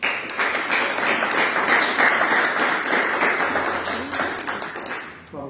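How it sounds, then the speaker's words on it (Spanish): Warm applause from an audience welcoming a guest poet at a literary reading, dense and steady clapping that fills the room for several seconds before tapering off. "A él lo recibimos con calurosos aplausos."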